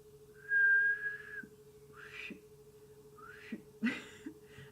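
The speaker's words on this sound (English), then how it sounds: "Oh, the whistle. I get it." A whistle is blown once in a long steady tone near the start, followed by a few shorter faint chirps and rustling handling noises with a low background hum.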